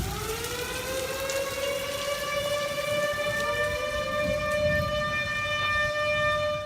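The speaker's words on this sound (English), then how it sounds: "there was a point when the tornado sirens went off" Tornado sirens wail during a thunderstorm in Nekoosa, a long rising tone that holds steady and carries from a distance over the hiss of steady rain, with no voices.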